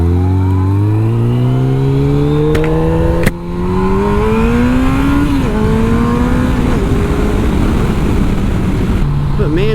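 A Yamaha FJR1300 sport touring motorcycle pulls onto the highway, its engine climbing through rising revs and gear changes into a loud steady drone, with heavy wind noise.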